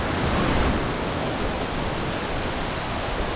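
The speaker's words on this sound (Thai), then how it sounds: "เพราะเสียงมันดังมาก เลยเป็นชื่อสาบเสียงลือ ก็เป็นน้ำตกลงมาสูงร้อยเมตรได้" A steady, dense roar of water falling about a hundred metres at Tad Xieng Lue waterfall in Laos, loud and unbroken, heard from close by.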